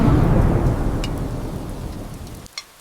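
Rain pours outside a village house at night while a heavy, close thunder rumble swells and slowly fades over a couple of seconds, then cuts off abruptly.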